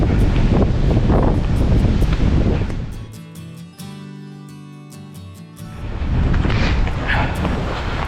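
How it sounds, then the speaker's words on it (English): Strong gusts of wind blow off a frozen lake on a bitterly cold day in the Adirondacks, roaring and buffeting the microphone loudly before briefly dropping to a calmer lull and then surging again. "the way the wind's coming off of the lake"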